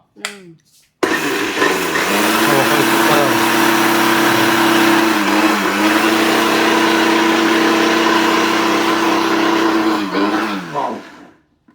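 A kitchen mixer grinder whirs loudly and steadily for about ten seconds as it grinds ingredients for a fish fry, starting abruptly after a brief clatter and winding down at the end.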